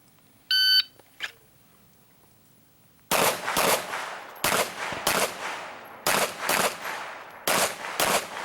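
A shot timer beeps, then pistol shots ring out at an IDPA match in rapid bursts of loud, sharp reports with short pauses between strings.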